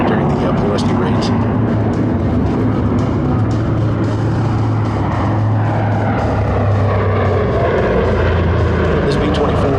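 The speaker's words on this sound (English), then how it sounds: "This B-24 is the oldest B-24 in existence." Loud droning propeller engines of a B-24A bomber run continuously, a heavy steady roar with a voice speaking over it.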